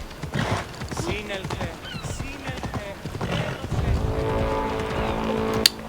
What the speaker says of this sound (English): I love knocking people down with the horse.